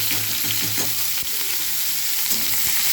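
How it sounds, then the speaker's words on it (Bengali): Whole spice tempering frying in hot oil for chirer polao, a steady close sizzle and crackle running throughout with a few soft stirring knocks, no voices. "ফোড়নটা একটু ভেজে নেব, দিয়ে এই সবজিগুলো দিয়ে দেবো।"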